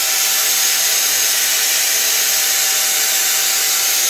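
A Mazak lathe cuts aluminum dry, without coolant, giving a loud, unbroken, hissing whir that holds an even level throughout.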